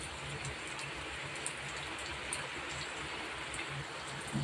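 Rain pouring down steadily close by, a thick unbroken patter and hiss on surfaces throughout, with no voices over it.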